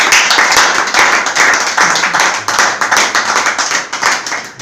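An audience at a business presentation for medical delegates bursts into clapping, loud and close, with rhythmic pulses of many hands that gradually thin toward the end.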